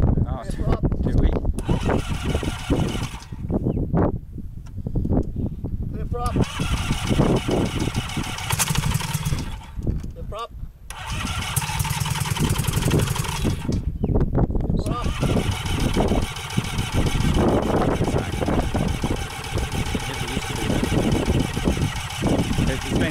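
A Rotax 582 two-stroke aircraft engine cranks and then runs roughly, a loud buzzing drone that surges and drops out several times, with people talking nearby.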